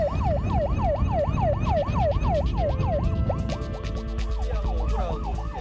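A Korean fire engine's siren wails in rapid, repeated rising-and-falling sweeps over a low engine rumble, then shifts to a choppier, faster pattern, loud and close throughout with no voices.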